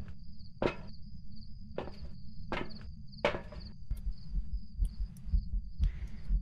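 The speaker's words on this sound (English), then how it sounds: "My headset is going crazy with the heartbeats, though." Heartbeats pulse during a ghost hunt in the Phasmophobia video game, a series of irregularly spaced thumping beats over a low droning hum, with a high steady tone running across.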